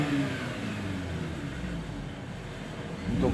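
Mazda RX-8 rotary engine exhaust with a valvetronic system in standard mode, a steady low idle rumble with a slight swell at the end.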